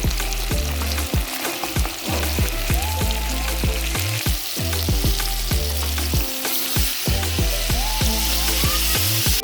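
Tomato paste fries in a pot for Haitian country chicken, a loud crackling sizzle punctuated by rapid rhythmic stirring clacks, close up with no voices.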